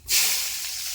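Mustard seeds and onions hit hot oil for a dry fish curry and burst into a loud, steady hiss that starts abruptly and holds at an even level.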